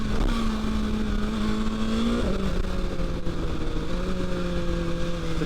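BMW S1000XR motorcycle accelerating: engine pitch climbs steadily, drops briefly at a gear change, then rises again in a strong, continuous near-field whine with no speech.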